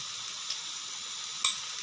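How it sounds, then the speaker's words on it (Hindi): Ginger garlic paste fries with browned onions in a pan, a steady close sizzle with no voices and one brief sharper crackle or tap near the end. "4 टेबलस्पून अदरक लहसुन का पेस्ट और इसको करेंगे हम अच्छे से फ्राई"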